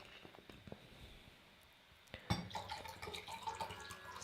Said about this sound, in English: I'm pouring a glass of water because my throat gets dry.